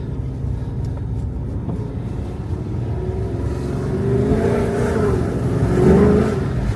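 A Dodge SRT8's engine roars loudly and steadily as it accelerates, the pitch climbing and then dropping through gear changes and downshifts, heard from inside the car.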